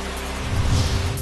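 Heavy monsoon rain pours down across fields near Talkhed in Beed district, a steady dense hiss with low rumbling underneath, continuous and fairly loud throughout.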